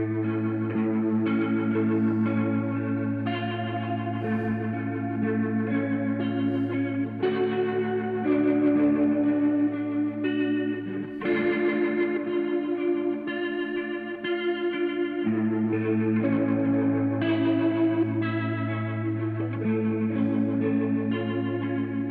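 Electric guitar with a lush chorus effect plays slow ambient chords and melodic lines, sustained shimmering tones layered over a steady low drone, loud and continuous with no voices.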